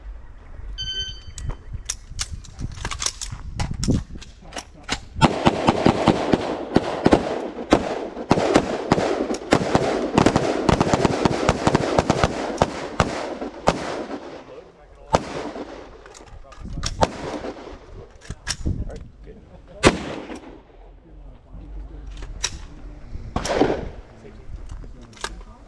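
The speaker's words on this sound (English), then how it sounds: "on the buzzer, engage target, tap rack, and then re-engage 5 shots" Pistol shots ring out on an outdoor range during a timed transition drill at a Hawaii rifle association event, a rapid string of loud cracks followed by sparser single shots from several shooters, with voices talking in between.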